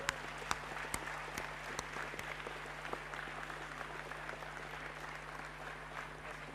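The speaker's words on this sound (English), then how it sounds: "Let's give them a round of applause." Faint, distant applause for sponsors and volunteers at a robotics nationals event, scattered sharp claps over a steady low hum in a large hall.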